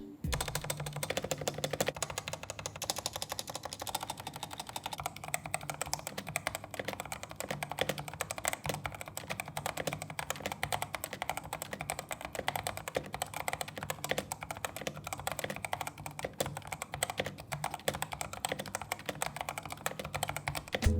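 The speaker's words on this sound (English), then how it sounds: "Let's do a quick sound test." Steady, fast typing on a mechanical keyboard with Outemu red switches, soft-feeling, a continuous clatter of keystrokes heard up close with no talking.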